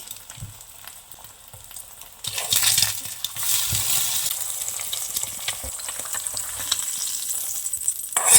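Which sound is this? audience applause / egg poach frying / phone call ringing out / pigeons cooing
egg poach frying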